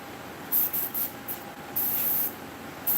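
Paasche H airbrush spraying ink in short repeated bursts, sharp airy hisses of uneven length separated by brief pauses, close and fairly loud with no talking.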